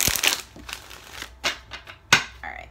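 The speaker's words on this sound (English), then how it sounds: "I just need to shuffle a little bit more." A deck of tarot cards shuffled by hand, soft papery riffles and taps in irregular bursts, close and fairly quiet.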